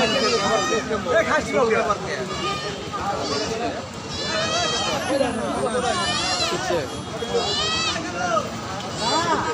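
Goats bleat at a village livestock market, several wavering calls rising above a busy crowd of people talking nearby.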